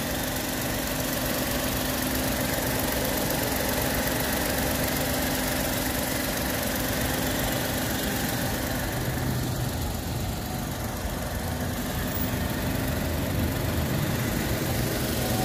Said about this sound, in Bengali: 3 সিলিন্ডার ইঞ্জিন